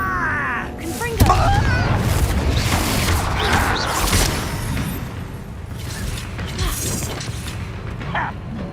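A Confringo fire spell in Hogwarts Legacy bursts with a boom followed by rumbling crashes and mechanical clatter over several seconds, dense and loud, with a voice speaking over the blasts.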